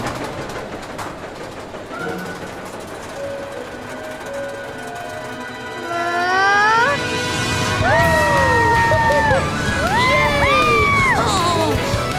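Cartoon riders scream and cheer on a mountain train ride, rising excited voices swelling from about midway and staying loud to the end over a steady rumbling background.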